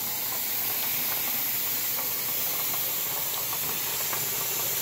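A pressure canner vents a steady, continuous hiss of steam while raw-pack chicken legs are canned, loud and unbroken throughout at close range.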